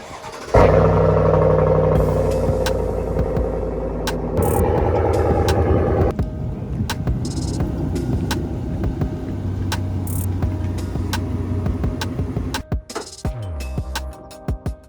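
A loud truck engine with a modified exhaust revs hard, aggressive and rumbling, surging and dropping several times before cutting off near the end.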